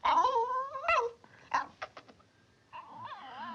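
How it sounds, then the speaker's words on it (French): A dog whimpers outdoors in a 1958 French film, giving high, wavering whines in short bursts with brief pauses between them, fairly close and heard alone. "le pauvre toutou, il est dehors."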